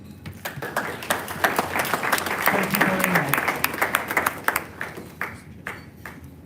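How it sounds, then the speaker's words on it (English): Round of applause at the English Greyhound Derby final draw event, a crowd clapping in a building swell that peaks midway and thins to scattered individual claps, with someone briefly speaking over it. "a quick round of applause for him"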